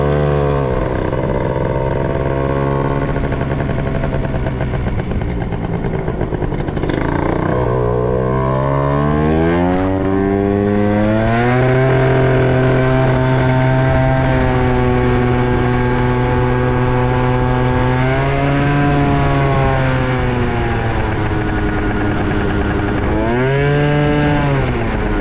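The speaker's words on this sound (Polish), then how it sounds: "To i odpali z akumulatorka." A motor scooter engine runs steadily and loud up close, its pitch rising and falling through several revs, with a strong harmonic drone throughout and no voices.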